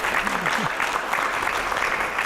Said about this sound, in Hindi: पहले जोरदार तालियां हो जाए।